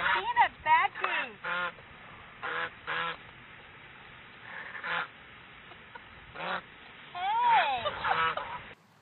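Ducks being fed crackers give repeated loud honking, quacking calls in irregular bursts, close by, with gaps between calls and people talking at times.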